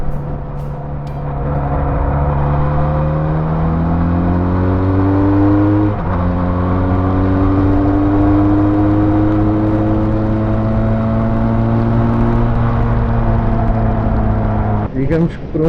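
A QJ SRK400 motorcycle engine runs steadily under riding, its harmonic tone climbing through rising revs and dropping at gear changes, loud and continuous for most of the stretch with a brief settle near the end.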